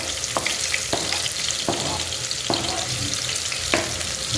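Three medium onions fry and sizzle steadily in hot oil for a fish curry, a continuous loud crackle broken by periodic scrapes of a stirring spoon.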